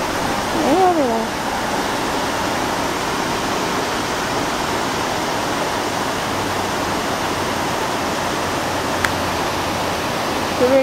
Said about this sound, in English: Here's another view of that amazing little waterfall here.